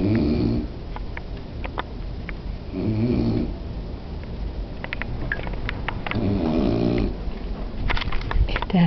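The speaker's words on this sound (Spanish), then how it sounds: "Es terrible como ronca." An elderly woman snores loudly nearby in a bedroom, with rough, rasping breaths repeating about every three seconds over a low background hum.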